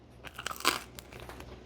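Someone bites into a toasted two-ingredient bagel with a crunchy crust and soft middle, giving a few close, crisp crunches followed by quieter chewing.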